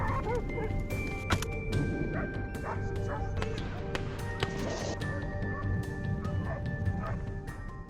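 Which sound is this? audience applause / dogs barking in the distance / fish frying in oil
dogs barking in the distance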